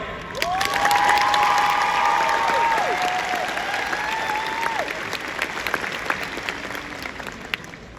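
An audience at the 2021 Biloxi High graduation applauds loudly as the salutatorian is welcomed to the podium. Dense clapping mixes with scattered cheers and whoops and holds steady for several seconds.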